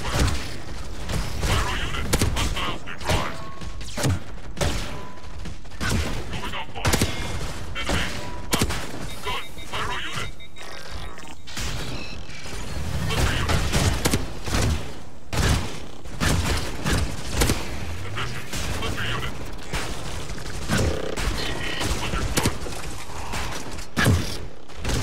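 Rapid, harsh bursts of futuristic pulse cannon gunfire in Star Wars Battlefront 2 crackle continuously alongside clanking mechanical noises and impacts, dense and loud throughout.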